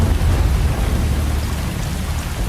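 Steady rain hiss with low rumble, loud and continuous throughout, no voices, heard as part of a music video.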